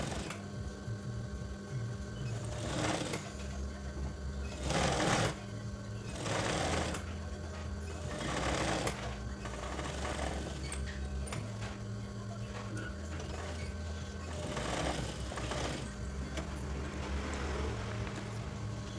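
A sewing machine stitching a shirt collar runs in steady whirring bursts, pausing and restarting several times with short mechanical clicks between runs.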